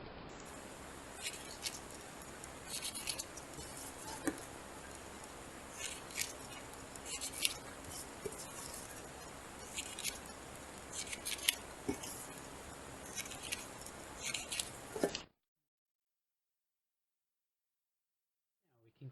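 Scissors snip through paper in short, irregular cuts along a line while a child-style craft piece is made, close and fairly quiet, then the sound stops and silence follows.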